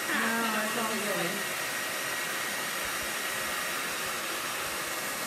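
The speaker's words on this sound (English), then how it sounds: "It's definitely different using your blow dryer than when you're used to using the heat gun." A hair dryer runs steadily at close range to heat a Chalk Couture baby-shower chalkboard craft, a loud, continuous broadband whoosh lasting the whole clip, with a brief voice faintly audible at the start.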